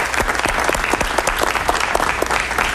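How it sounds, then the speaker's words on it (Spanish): Studio audience applause welcoming a guest to a television interview, steady dense clapping from a crowd, loud and continuous for nearly three seconds with no talk over it. "Un aplauso para él,"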